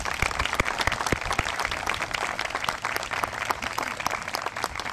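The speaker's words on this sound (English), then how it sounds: "I think we deserve a round of applause to those who put it together" Outdoor audience applause at the Giralda Farms Preserve dedication in Morris County, a sustained, fairly loud patter of many hands clapping at an even level, with faint voices beneath.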